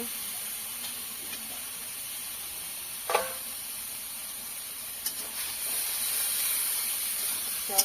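Eggplants land in a hot pan for a sour spinach dish and raise a steady hiss of steam and sizzle that swells toward the end, with a few sharp clinks, close and with no talking.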